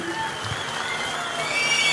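Audience clapping at a chief minister's speech during a national highway inauguration and foundation-stone ceremony, a steady wash of applause from a crowd that holds throughout and swells slightly toward the end.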